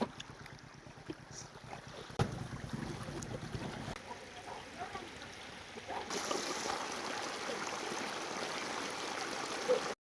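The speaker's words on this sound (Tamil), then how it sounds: "ஊருக்குள்ள எப்படி போயினுது தண்ணி" Overflowing lake water running through the streets of a town, making a steady rushing, streaming wash that grows fuller and louder partway through, with faint handling noises and no clear talk.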